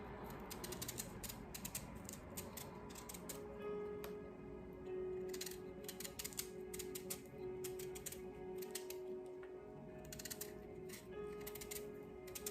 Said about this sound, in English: I'm gonna finish peeling this one.